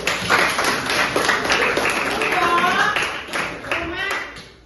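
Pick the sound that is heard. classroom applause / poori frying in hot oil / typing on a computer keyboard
classroom applause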